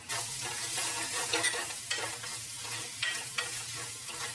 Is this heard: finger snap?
no